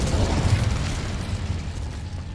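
Incendio fire spell burst in Hogwarts Legacy, a loud roaring whoosh of flame that fills the moment and slowly tapers off, with no voices.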